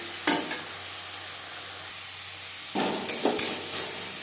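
Vegetables and grated coconut stirred in a hot pan for niramish motor dal, a steady soft sizzle broken by a few sharp scraping strokes near the start and toward the end, close and alone with no talk.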